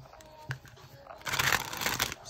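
A deck of tarot cards is shuffled during a reading, giving a short quiet tap followed by a brief riffling rustle, close and alone without speech.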